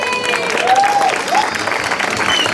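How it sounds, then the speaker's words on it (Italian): Crowd applause at an Italian school's start-of-year party, a steady sustained clapping from many people with voices faintly audible underneath. "grazie per l'applauso"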